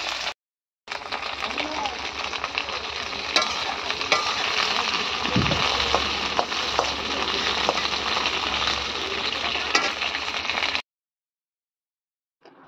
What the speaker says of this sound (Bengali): তো এদিকে ঢ্যাঁড়সটা আমি ভেজে নিলাম।